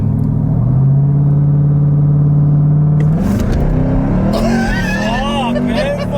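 A Jeep Trackhawk launches with a loud, rising engine roar, then its wheels spin with squealing tires and shifting pitch as people talk over it.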